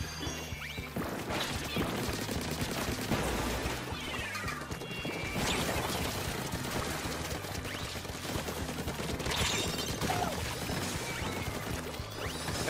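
Splattershot ink-weapon fire in Splatoon 3 gameplay: rapid, continuous spraying shots mixed with splats and game effects, loud and dense throughout, with a voice talking faintly underneath.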